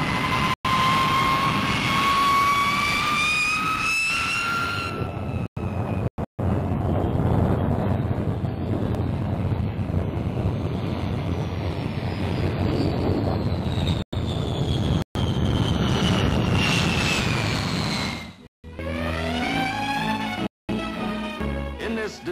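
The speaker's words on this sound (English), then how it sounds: "the Valiant, the new four-jet bomber, a magnificent example of British engineering" Vickers Valiant four-jet British bomber flying past, a loud sustained jet roar with a rising whine that swells, holds and fades, then another whining pass near the end.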